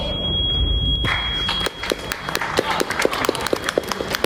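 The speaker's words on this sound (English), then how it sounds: "People applauded." An audience applauds after a speech, a busy patter of claps building in from faint to steady and fairly close, with a few sharper individual claps standing out toward the end.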